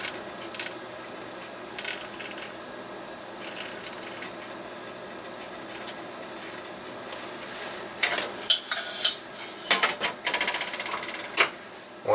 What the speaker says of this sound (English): I start dipping out the shot and paraffin and try to get it down the shot shell rather than spilling.